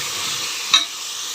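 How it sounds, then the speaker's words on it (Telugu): A spoon stirs and mixes chopped radish in a pan, a soft steady scraping with a brief sharper knock partway through, close and alone. "ఇట్లా బాగా కలిసేలాగా కలిపేసుకొని"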